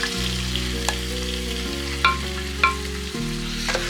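Beef liver (kaleji) hitting hot masala gravy in a pan, street-food style: a steady loud sizzle and frying hiss with a few sharp stirring clatters, no voices.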